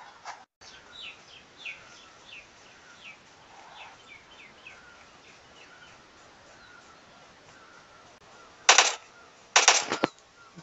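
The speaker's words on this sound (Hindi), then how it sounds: "चल रही है गोलियां।" Birds chirp softly for several seconds, then two short bursts of rapid gunfire ring out close and loud near the end.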